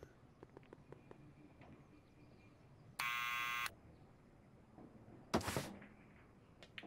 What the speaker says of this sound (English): Let's try hitting the buzzer again.